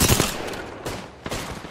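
Rapid automatic gunfire from Apex Legends chatters in a dense burst, briefly easing before a second burst starts, loud and close with no voices over it.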